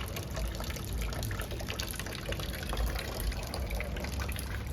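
Engine coolant runs out of a Toyota Fortuner's radiator after the bottom drain is loosened, a steady splashing gush of liquid that continues unbroken throughout.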